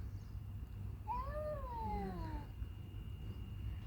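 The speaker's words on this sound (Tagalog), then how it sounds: "Mas may kuring nag-aaway." A single drawn-out, wavering cat yowl rises and falls over a couple of seconds, part of a cat fight heard outdoors on a walk at Mina Al Arab, Ras Al Khaimah, over a low steady background rumble.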